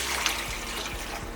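Water pours steadily, a continuous splashing wash of liquid filling a vessel, close by with no talking.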